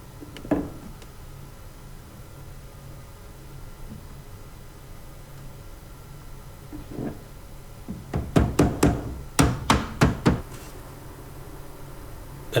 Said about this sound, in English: so I had to sort of press it in and tap it in to get it in place